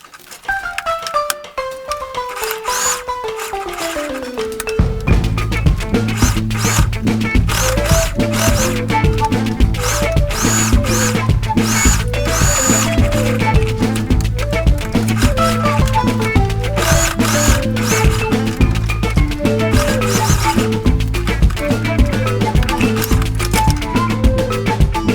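A sewing machine stitches a pleated fabric face mask, starting with a falling whir as it spins up and then a loud, steady rapid chatter of needle strokes that runs without pause for about twenty seconds.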